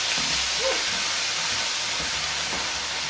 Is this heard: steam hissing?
yes